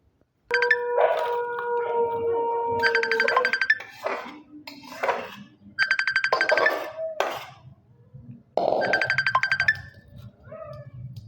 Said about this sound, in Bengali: এরপর আমি কড়াইটা ধুয়ে দেবো